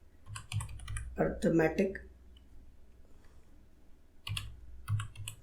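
Keys clatter on a computer keyboard as a compile command is typed at a command prompt, quick bursts of clicks at the start and again near the end, with someone talking between them.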